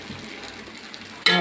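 Chili pork sauce mixture with capsicum, onion and pork is poured into a hot frying pan, where a soft background simmer suddenly flares into a loud, close sizzle near the end.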